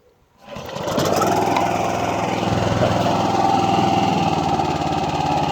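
A John Deere RK54 commercial mower with grass bag starts up and settles into a loud, steady engine drone, revving up close by, with no talk.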